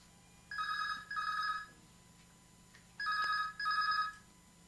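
A telephone rings twice in paired electronic trills during a radio phone-in show on Akola All India Radio, thin and moderately faint over a low steady hum, with no voices.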